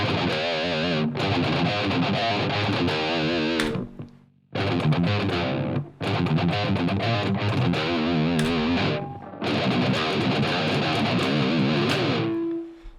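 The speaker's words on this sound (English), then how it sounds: "Go into your distortion pedal," Heavily distorted low-tuned seven-string electric guitar through a Line 6 Helix distortion preset plays loud sustained chords in several bursts separated by brief pauses.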